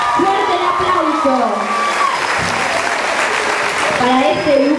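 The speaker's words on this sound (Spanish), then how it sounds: "aplauso" Applause from an audience fills the whole stretch, with a vocal line or announcement running over it.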